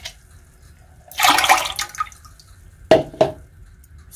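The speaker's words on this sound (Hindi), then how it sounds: "और साथ ही डाल देंगे 2 कप पानी इसके अंदर." Water is poured into soaked pigeon pea dal for cooking in two short bursts: a splashing gush about a second long, then two brief sharp pours. All of it is close and clear against a quiet background.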